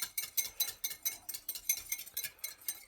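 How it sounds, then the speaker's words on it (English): A whisk beating egg in a bowl while warm broth goes in for avgolemono soup, a quick, even run of soft metallic clicks and scrapes close by, quiet and without speech. "I'm just going to add a little bit of the broth while I'm whisking"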